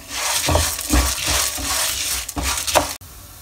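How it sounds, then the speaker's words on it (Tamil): Curry leaves and dried red chillies being dry-roasted in a pan for idli podi, giving a close, steady rustle and scrape of stirring with a few louder clatters of the utensil against the pan. "ஒரு கைப்பிடி அளவுக்கு கருவேப்பிலையும் பத்து காஞ்ச மிளகாவும் போட்டு இப்போ வறுத்துட்ருக்கோம்."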